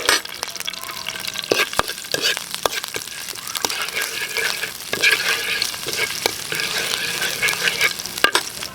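Ginger sautéing in annatto (achuete) oil, a bright steady sizzle broken by frequent sharp spatula scrapes and taps against the pan, close and without talk.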